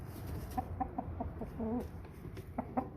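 An American Bresse chicken clucks softly in a series of short, moderately spaced calls with one longer drawn-out cluck in the middle, fairly quiet against low background noise.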